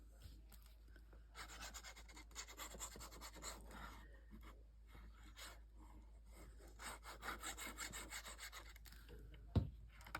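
A tool burnishes paper for a deck of cards holder craft, with close, rhythmic scraping and rubbing strokes at a low level and a brief knock near the end.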